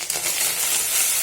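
Chopped tomatoes hit hot oil with ground cumin and coriander for new-potato alur dom, giving a bright, continuous hiss and crackle of sizzling that stays steady and close throughout the short moment.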